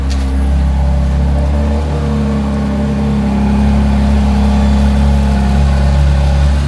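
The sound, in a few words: McLaren Artura Spider engine cold start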